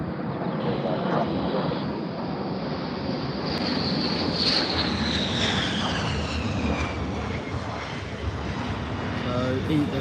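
Two aircraft circle overhead with landing gear down, a continuous loud engine roar with a rising whine, close and buffeted by wind noise.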